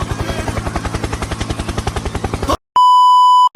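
A helicopter firecracker spins up during Diwali festivities with a fast, rhythmic whirring pulse, loud and close, then cuts off abruptly and gives way to a sharp, steady electronic beep tone.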